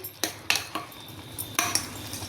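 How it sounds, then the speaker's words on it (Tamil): A spoon scrapes and clinks against a pot while samai rice pepper pongal is stirred, then a lid goes on; several sharp metallic knocks stand out over a soft cooking background, with no talk. "ஒரு குண்டு கிண்டி விட்டு மூடிடுவோமே"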